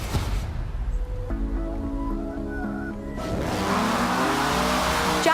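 A Jaguar car in the racing video game Forza Horizon 4 accelerates with a steady engine drone, rising through gear shifts before a burst of tire noise and louder revving toward the end.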